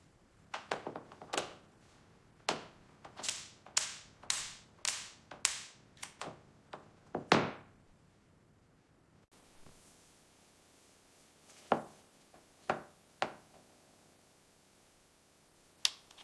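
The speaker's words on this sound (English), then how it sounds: "Pull it forward steadily to release the clips" Grille and bumper clips on a 1963 Ford Galaxie 500 sedan releasing one after another, a run of about a dozen sharp plastic-metal snaps and pops close up, then a few more spaced snaps after a pause, with no talk.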